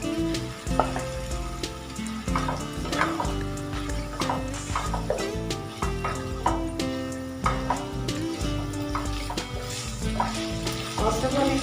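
Pasta being stirred and fried in a pan with onion, garlic and dried chili paste, a steady close sizzle with scraping and clinking of the spoon throughout.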